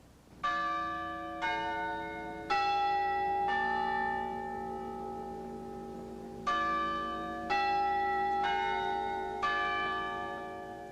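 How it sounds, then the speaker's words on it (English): Tower chimes at Orton Hall, Ohio State University, ring out a slow sequence of about eight bell strikes with long resonant decays overlapping, clear and alone with no voices. "In 1893, these chimes first rang atop the building named after Ohio State's first president, Edward Orton"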